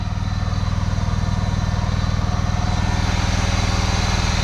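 A 53-year-old lawnmower runs steadily while mowing, its engine a loud, close, continuous drone with a rapid, even firing pulse throughout and no talking.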